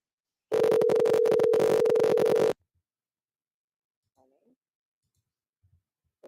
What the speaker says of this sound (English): let me call this person on the phone